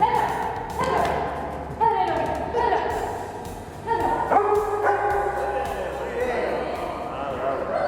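A dog barks several times in short bursts, close by, with a person's voice and a few soft thumps between the barks.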